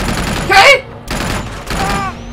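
Bursts of rapid gunfire in Uncharted 2: Among Thieves Remastered, a dense volley near the start followed by two more sustained spells of shooting, with a player talking over the action.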